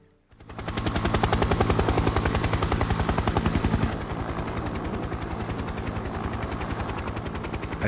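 A Coast Guard helicopter's rotor chops in a fast, steady rhythm, loud and close at first, then slightly softer as it continues overhead.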